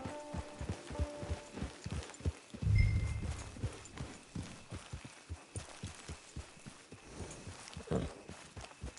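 A horse walks in Red Dead Redemption 2, its hooves giving a steady, moderately close clip-clop rhythm of regular strikes with no talking.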